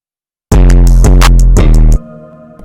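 A hip-hop beat pushed hard through a limiter until it sounds crushed, dense and loud with thumping low end and sharp hits, cutting off abruptly into a quieter sustained tail.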